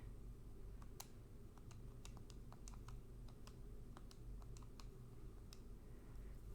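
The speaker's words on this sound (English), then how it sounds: "So I'm typing in the second one here." Quiet, fairly fast typing on a computer keyboard, a steady run of light key clicks over a low background hum, with no voice.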